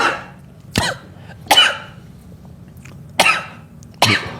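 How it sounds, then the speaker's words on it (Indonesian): A man coughs four times in a sharp, close and loud fit after choking on a drink, with short pauses between the coughs and a faint hum underneath. "jadi batuk."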